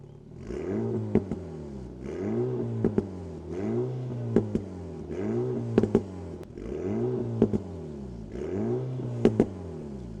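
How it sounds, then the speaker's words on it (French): An Alpine A110 in sport mode revs repeatedly, rising and falling in about six regular throttle blips, each ending in sharp exhaust pops and crackles, close and loud with no talk. "là, j'active le mode sport, et là, je vais accélérer"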